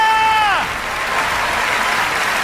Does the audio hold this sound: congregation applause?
yes